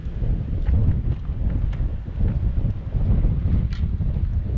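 Steady wind buffets the microphone on a golf course at the Isle of Purbeck Golf Club, making a loud, continuous low rumble with faint rustling throughout.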